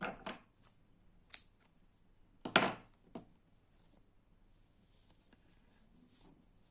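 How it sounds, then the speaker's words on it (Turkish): Scissors cut crochet yarn at the end of a beaded crocheted bootie, several faint, close snips and clicks spaced apart over a near-silent background, with no speech. "Makasımla kesiyorum."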